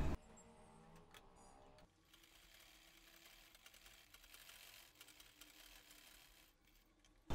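A sewing machine stitching a kurti neckline runs in a faint, steady, rapid ticking hum for about five seconds after a quieter start, with no talk.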